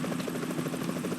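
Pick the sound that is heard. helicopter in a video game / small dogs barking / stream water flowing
helicopter in a video game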